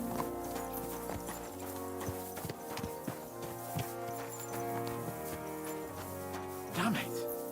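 Horses' hooves clip-clop steadily at a brisk ride in the medieval video game Kingdom Come Deliverance 2, close and rhythmic under continuous game music and ambience, with a brief whinny-like burst near the end.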